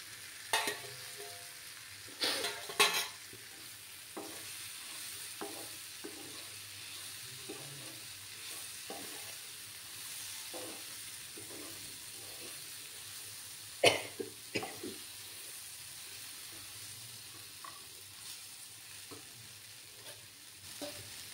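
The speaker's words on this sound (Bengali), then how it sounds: "সয়াবিনের সঙ্গে সমস্ত মশলাগুলো কষিয়ে নেব" Soybeans fry and get stirred with spices in a pan for a vegetarian Bengali soybean curry: a steady close sizzle with scattered spoon scrapes and knocks, plus a few sharper clatters near the start and middle.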